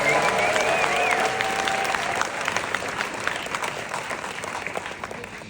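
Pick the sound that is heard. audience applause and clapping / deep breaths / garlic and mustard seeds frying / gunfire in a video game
audience applause and clapping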